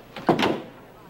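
A door opens abruptly with a short rattling thud and a brief sweep of noise as someone enters, close by, in a 1960 western television episode, with no one speaking.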